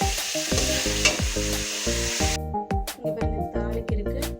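Vegetables for a cauliflower fish curry fry in a pan with a steady sizzle, broken by repeated scraping stirs at a regular pace. The hiss dies away partway through, leaving the clattering stirs.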